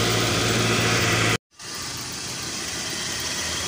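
A Daihatsu Zebra Espass car engine idling to warm up after its engine bay is washed, a steady close mid-pitched drone that cuts out sharply for a moment and then resumes evenly.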